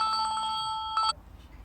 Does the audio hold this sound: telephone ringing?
yes